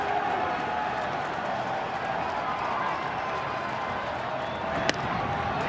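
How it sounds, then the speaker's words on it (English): Fans at a Tigers baseball game cheer and applaud continuously after a Granderson home run, a broad steady crowd roar with one sharp crack near the end. "That has charged up the crowd."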